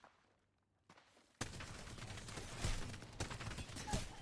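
Rapid Havoc rifle fire in Apex Legends erupts after a quiet start, a dense fairly faint burst of gunshots with scattered impacts running to the end.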